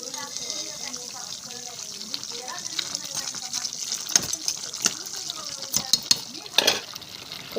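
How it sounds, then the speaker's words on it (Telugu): Water poured into a cooking pot of curry on the stove, a gurgling splash and stirring clatter building toward the end, with a person talking over the earlier part. "కొంచెం ఉడకాలి కదండి, కొంచెం వాటర్ యాడ్ చేద్దాం."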